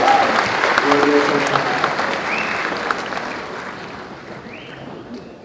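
Audience applause at a stand-up comedy show in Aceh, Indonesia: dense clapping from a crowd that starts loud and slowly fades over several seconds, with a little voice mixed in beneath.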